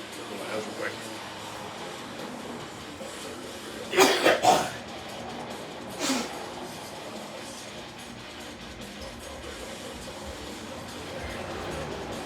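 A man in a powerlifting gym coughs hard, a tight burst of three or four harsh coughs followed by a single cough a moment later, over faint room hum.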